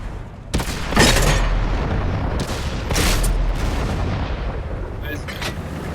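Tank cannon fire in the video game World of Tanks: several heavy, booming shots spaced a few seconds apart, each with a rumbling tail, over steady low engine drone.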